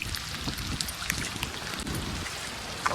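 Steady rain pours down during the monsoon in Shimla, a dense continuous hiss of drops striking surfaces, close and unbroken, with no voices.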